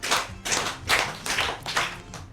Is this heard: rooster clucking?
no